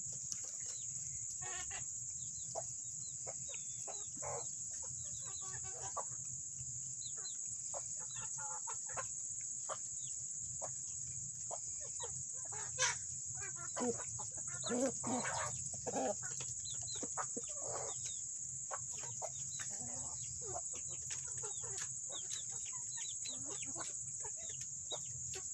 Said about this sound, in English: Little chicken over here hiding at my foot.